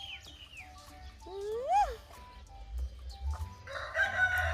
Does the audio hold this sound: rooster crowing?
yes